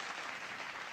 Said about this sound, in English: Gonna hit the applause button for that one.